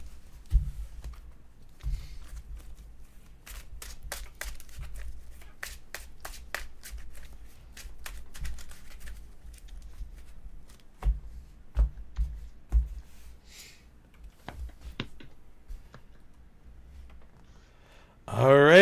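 A deck of playing cards is shuffled, giving rapid crisp riffling clicks in short bursts with scattered taps, fairly close and quiet, without speech over them.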